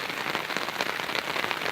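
Steady rain falls on a rural property with a small dam and ditches, a dense, even hiss of drops on surfaces throughout, moderately loud and unbroken by voices.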